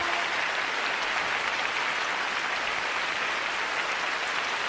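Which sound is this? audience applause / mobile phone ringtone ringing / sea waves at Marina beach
audience applause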